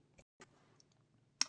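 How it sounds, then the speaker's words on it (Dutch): Sparse clicks from a computer keyboard as the F12 key is pressed, a few soft taps followed by one sharper, louder click near the end in a quiet room. "ik klik op F12 op het toetsenbord"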